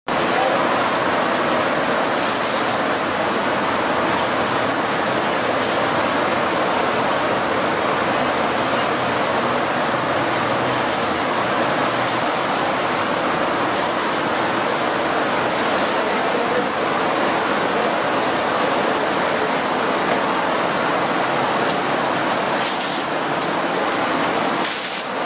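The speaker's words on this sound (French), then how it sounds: "Il est en train de pleuvoir là, c'est la première fois donc, que je vois une pluie à l'indonésienne" Heavy tropical downpour in the heart of Jakarta, a loud, dense and steady hiss of rain pouring down continuously with no break, close and enveloping.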